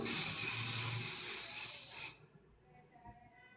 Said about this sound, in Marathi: तर स्प्रे करून घेतलेले तुम्हाला इथं धुका असं दिसत असेल स्प्रेचं